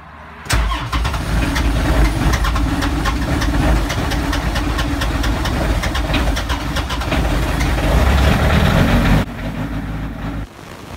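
A Sherp all-terrain vehicle engine that had not been started for a long time cranks and catches, then runs loud and steady at a rough idle, close to the microphone, before cutting off near the end.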